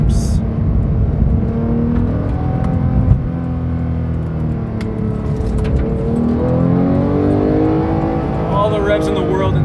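Manual 991.2 Porsche GT3 engine held in second gear, a loud, close, continuous drone whose pitch rises and falls as the revs climb, with someone talking over it.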